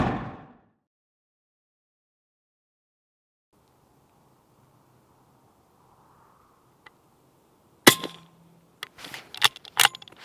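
A suppressed WW2 De Lisle carbine firing a subsonic load of 6.2 grains of Unique powder: a soft, muffled shot followed by several sharp mechanical clicks and clacks, up close and otherwise quiet.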